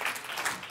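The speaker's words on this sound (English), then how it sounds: "A big round of applause," Audience applause at a business talk on digital identity for insurance, a short, fairly soft wash of clapping from a seated crowd, heard alone.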